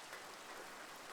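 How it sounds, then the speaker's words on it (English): Rain falling on a copper roof in modded Minecraft, a soft, faint, even patter of drops on metal, steady and without pauses. "a specific rain sound for like copper roof, the rain hitting the metal"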